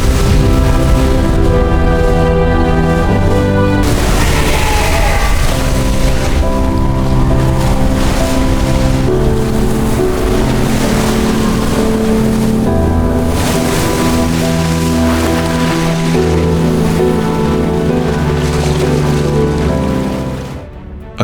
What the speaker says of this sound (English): Accompanied by the sound of the explosion, the water from the reservoir gushes out